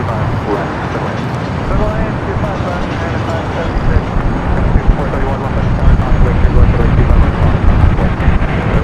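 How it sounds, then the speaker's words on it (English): An American Airlines Boeing 787 Dreamliner bound for London Heathrow takes off at Los Angeles airport, its jet roar a dense, continuous rumble that swells gradually louder, buffeted by wind noise on the microphone. "we do that American Dreamliner heading to London Heathrow up next for takeoff"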